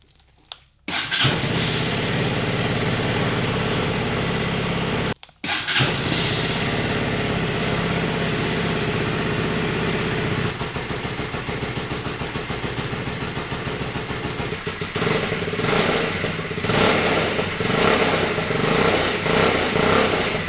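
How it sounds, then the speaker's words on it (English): A motorbike is started after a couple of cranking attempts, then idles steadily and loudly nearby to warm its oil before an oil change, the idle pulse shifting slightly partway through. "So we're going to let the bike run for 5 minutes, not so it's too warm"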